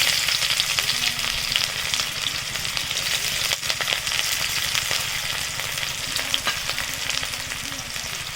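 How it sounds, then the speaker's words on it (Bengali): Chopped onion and pieces of bay leaf frying in hot oil, a loud steady sizzle with faint scraping of a spatula stirring through it, continuous and close without any voices. "দুটো তেজপাতা টুকরো করে দিয়ে দিচ্ছি। দিচ্ছি একটা পেঁয়াজ কুচি।"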